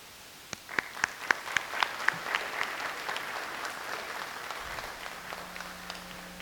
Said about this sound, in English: I want to give you a round of applause for supporting your scholars to get here tonight